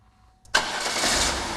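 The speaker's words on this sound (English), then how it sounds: "When the car is restarted," A 1998 Buick car engine cranks and catches after a short silence, then settles into a steady, fairly loud idle close by.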